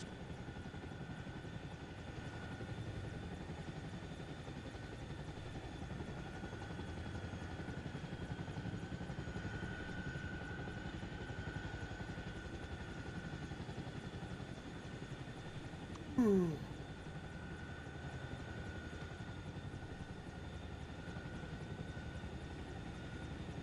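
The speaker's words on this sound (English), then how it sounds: "It is the Apache." An Apache attack helicopter in the Arma Reforger video game flies overhead during a military exercise, a steady low rotor and engine drone running continuously throughout, with a brief sharp transient near the end.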